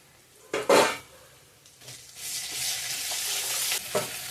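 Ginger dropped into a hot pan of oil with a few spatula scrapes and knocks, followed by a steady rising sizzle of frying as it is stirred.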